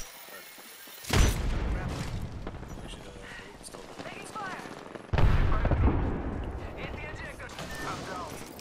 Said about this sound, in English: I apparently got shot through the smoke.